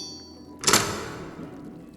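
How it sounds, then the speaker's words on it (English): An armory's wooden doors burst open with one sharp thud and rattle, followed by a short decaying rumble in an otherwise quiet room. "The doors burst open as the scent of blood filled the air."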